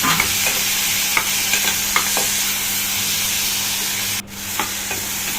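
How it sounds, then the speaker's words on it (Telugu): Chopped tomatoes fry with turmeric and rock salt in a pan, giving a loud, steady sizzle close by. Occasional scraping stir strokes sit over it, and one brief dip in the hiss comes near the end. "చూడండి బాగా వేయించుకోవాలి మనము."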